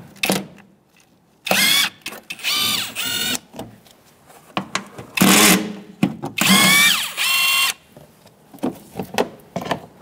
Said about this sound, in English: Using a 10 millimeter socket, we're going to remove these two bolts for this plastic cover.